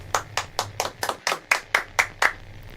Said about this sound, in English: Okay, we applaud.